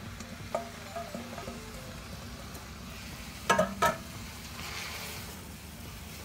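Red cabbage tipped into a pan of onions and lardons, a soft, steady frying sizzle broken by a few brief clacks of stirring.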